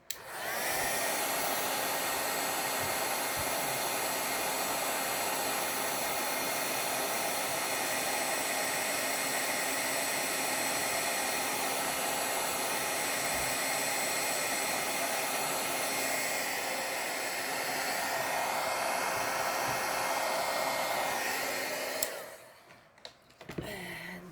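A heat tool blows hot air to set gold embossing powder, holding a loud, steady whirring hiss for about twenty seconds before switching off abruptly.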